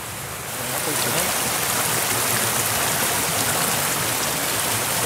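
Water rushes steadily in a continuous, broad hiss, like a nearby stream flowing over rocks, swelling slightly at the start and staying constant.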